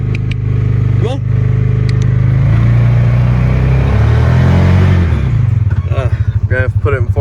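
A stuck homestead vehicle's engine roars loudly and close, revving up and down as it strains to move, then settles into a throbbing idle. Brief voices cut in near the start and at the end.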